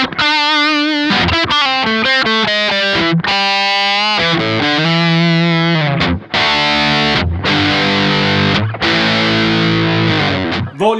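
Electric guitar at about volume 6 through a Kemper Marshall 30th Anniversary profile, loud, continuous distorted chords and riffs ringing out without talk.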